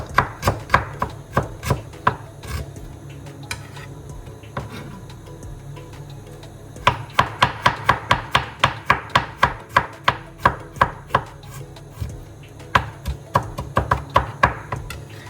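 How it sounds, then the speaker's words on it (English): Fresh peeled ginger being cut into small pieces with a knife on a board, a steady run of crisp, close chopping taps, pausing briefly midway before resuming in a faster, even rhythm. "This is some ginger, fresh ginger, which I've peeled. Just cut them in small pieces."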